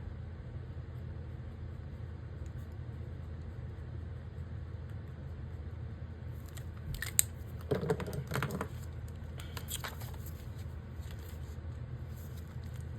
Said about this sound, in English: And then I'm just gonna write this week.